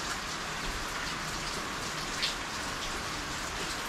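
Rain falls steadily, a close, even hiss of drops with a faint pattering texture and no voices, holding unchanged throughout.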